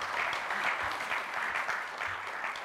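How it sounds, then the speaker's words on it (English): Audience applause welcoming a former Indian Foreign Secretary at a global outlook talk, steady and moderately loud, with many hands clapping evenly throughout. "Let's have a big round of applause."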